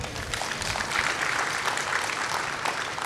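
A church congregation applauds during a service, a dense, steady wash of many hands clapping at once that fills the room evenly from start to finish.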